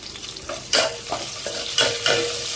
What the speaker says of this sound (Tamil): இதில் வந்துட்டு வெங்காயம், பச்சை மிளகாய், கருவேப்பிலை, 4 பூண்டு. ஸோ இப்போ நல்லா வதக்கிக்கலாம்.